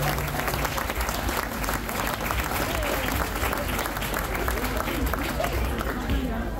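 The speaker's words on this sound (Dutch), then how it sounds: "laten we in ieder geval eerst even beginnen met een groot applaus voor de lopers" Big round of applause for runners who arrived on foot from Wageningen, a loud, dense crowd clapping continuously with a background murmur of voices and chatter mixed in.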